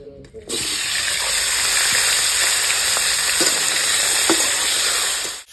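Cauliflower pieces frying in hot oil give a loud, steady, close sizzle that starts abruptly and holds for several seconds, with a few faint clinks and no talking over it.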